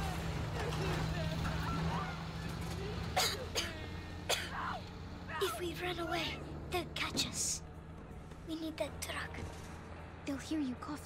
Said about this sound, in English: Hear you coughing.